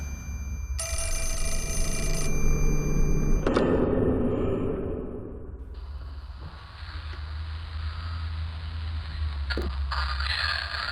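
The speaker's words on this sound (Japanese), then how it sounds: "お父さん電話。" A telephone rings in the Japanese horror video game Fatal Frame 4: Mask of the Lunar Eclipse, a steady electronic bell tone lasting a couple of seconds over a low ambient drone, followed by eerie scraping and rumbling game ambience.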